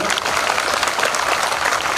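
Dense audience applause at a Telugu public gathering fills the whole stretch: loud, steady, many hands clapping at once with no pause and no clear voice on top.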